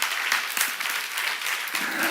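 A church congregation bursts into clapping during a sermon, dense and lively, filling the room with a steady wash of hand claps.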